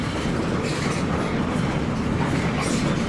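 An Alaska passenger train rolls past a rail yard with a steady, loud rumble and continuous clickety-clack of wheels on rail joints, without talk.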